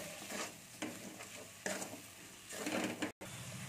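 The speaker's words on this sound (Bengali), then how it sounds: "দিয়ে এটাকে ভালো করে কষে নেবো আমি" Chili powder and spice mix frying in a pan for Bengali okra posto, a steady close sizzle broken by bursts of stirring and scraping, without talk.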